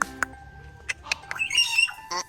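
Tropical birds at a bird park in Phuket squawk and chirp in a series of sharp, loud calls, some with ringing whistled tones, up close with little talk around them.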